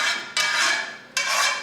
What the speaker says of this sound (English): instead of oil in my cast iron skillet, I'm going to put the coconut oil, and I'm going to spread that around